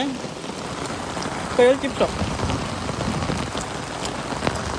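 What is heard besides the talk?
rain falling during a trek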